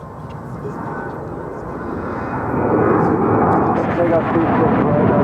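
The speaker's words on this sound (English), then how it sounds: "we've got that MD-11 now in short funnel for 36 left" An MD-11 airliner on short final at Dallas–Fort Worth airport, a broad engine roar swelling louder as it approaches, with faint talk in the background.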